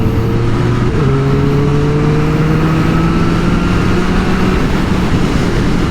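A 2023 Triumph Street Triple 765 RS motorcycle engine pulling hard under acceleration, a loud, close, steady roar whose pitch climbs smoothly, with a brief dip near the start as the revs change. No one speaks.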